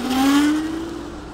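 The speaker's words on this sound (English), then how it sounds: "now your Segway is in go-kart mode, and you can put it into a track mode, which lets you go up to 23 miles an hour" Segway S Max electric self-balancing scooter fitted with a go-kart kit, running in go-kart mode: a rising electric motor whine that climbs steadily in pitch as it speeds up, loud and close, with no talk.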